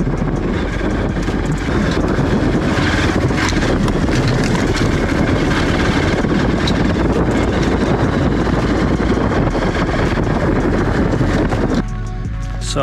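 A motorcycle engine drones loud and steady while riding, with heavy wind rush buffeting the microphone throughout before it drops off abruptly near the end.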